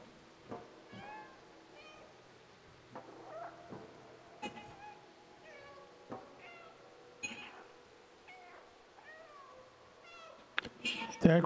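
Repeated meowing from the cat in the video game Stray, a string of short mewing calls at moderate level, with a faint voice now and then and a brief louder burst at the end.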